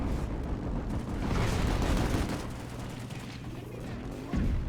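Sustained light machine gun fire in PlanetSide 2 rattles continuously through a dense, noisy battle mix, with rapid bursts layered over rumbling game ambience and a slight surge near the end.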